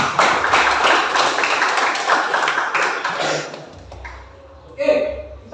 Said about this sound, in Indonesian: tepuk tangan untuk Ranti